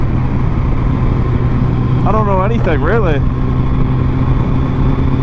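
A built Suzuki Hayabusa motorcycle engine runs steadily nearby with a low, even drone while someone talks over it.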